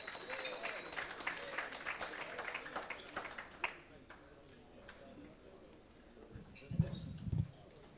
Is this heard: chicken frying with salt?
no